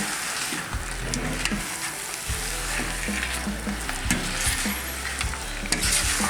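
Cheese halva sizzles and fries in a pan on low heat while being stirred, a loud close crackling sizzle with soft scraping strokes that continues without pause.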